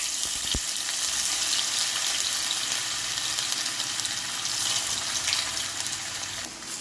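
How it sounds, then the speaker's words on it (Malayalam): Cut chicken sausage pieces fry in hot oil in a pan, giving a steady, dense sizzle and crackle close by with a brief sharp pop near the start, continuing unbroken throughout. "ഓയിൽ നന്നായി ചൂടായതിനു ശേഷം നമ്മൾ കട്ട് ചെയ്ത സോസേജ് ഇട്ട് കൊടുക്കാം."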